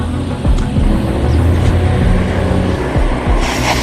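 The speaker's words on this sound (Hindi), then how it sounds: "गुल्ली और बुल्ली को पता ही नहीं चला और वो गाड़ी लेकर वहां से चले गए।" A vehicle in a Hindi cartoon drives off with a steady, loud engine rumble and road noise that persists throughout.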